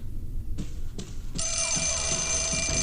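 Telephone ringing in the horror game Fatal Frame: Mask of the Lunar Eclipse, a couple of short soft clicks followed by a loud, bright continuous ring that sets in and holds, heard alone over a low ambient rumble.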